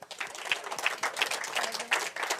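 An audience at a French Tech Day 2021 pitch competition claps to welcome a presenter: steady, dense applause from a room of people, moderately loud, with no voices over it.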